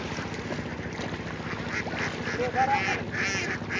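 Farm ducks quack near a boat on Chalan Beel in Bangladesh, scattered calls rising over a steady low background hum, moderately close and fairly faint.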